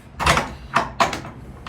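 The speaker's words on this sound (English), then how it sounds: "let me get my shed doors open here" Shed doors swinging open with several distinct knocks and rattles in quick succession, close and moderately loud, with no talking.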